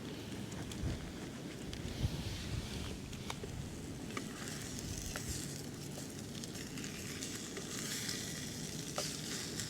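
Eggs sizzling and frying in a pan at an outdoor campsite in Malta, a steady dense crackle throughout with occasional scrapes of stirring and light wind noise, no talking.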